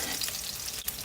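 Onion frying in about two tablespoons of hot oil, a steady close bright sizzle with faint stirring clicks, no voices.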